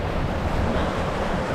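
Water rushes and splashes steadily around a raft on the Rio Grande Rapids ride, a loud continuous roar of churning spray with wind buffeting the microphone.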